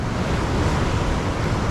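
Ocean waves breaking on a shore at a corvina fishing spot, a steady loud wash of surf with wind noise buffeting the microphone, no voices.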